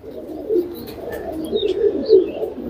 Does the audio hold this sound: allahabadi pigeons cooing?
yes